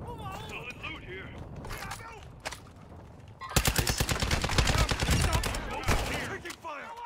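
Video-game gunfire bursts out as a sudden loud spell of rapid automatic shots partway through, after stretches of quieter game sound and voices.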